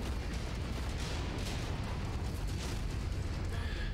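Explosions and weapons fire from the MechWarrior 5 video game: a continuous dense barrage of booms and bursts, loud and steady throughout.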